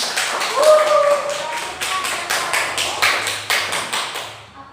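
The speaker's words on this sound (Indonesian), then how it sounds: "Nah, kasih tepuk tangan" A class of students claps hands in a steady, rhythmic pattern of sharp, evenly spaced beats that stays close and fairly loud for several seconds, with voices audible underneath.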